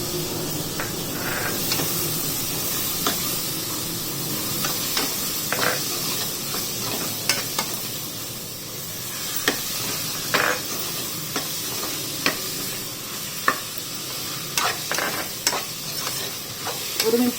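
Mixed vegetables with tomato frying in a pan for vegetable pulao, a steady sizzle and hiss punctuated by repeated scraping and clacking as the spoon stirs, close by.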